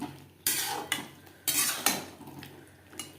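Boiled potato and kohlrabi stirred in a pan of spices, with several sharp scraping strokes of a utensil against the metal spaced irregularly over a soft background sizzle.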